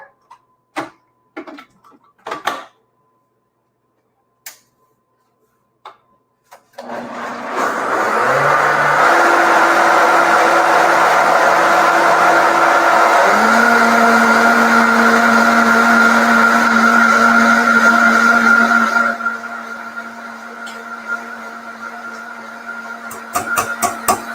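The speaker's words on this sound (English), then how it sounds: "I'm going to put this on the blender." A kitchen blender whirs steadily for about twelve seconds, loud and close, as it purees fat, milk, tofu and flavorings for a cake batter, with a few clicks and taps before it starts and after it stops.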